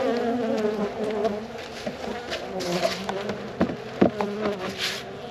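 Honeybees buzz in a steady, close hum around winter beehives, with occasional knocks and clicks from hive parts being handled.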